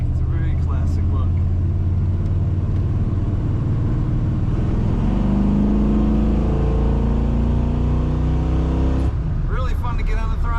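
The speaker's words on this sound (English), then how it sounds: "Really fun to get on the throttle in this truck." A 1986 Chevrolet C10 Stepside street rod truck with a cowl induction hood accelerating on the highway, its engine droning steadily and climbing in pitch beneath someone talking.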